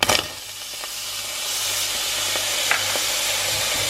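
Onion sizzling in a hot pan as it starts to fry, a continuous bright crackling hiss that builds slightly, with a few stirring scrapes.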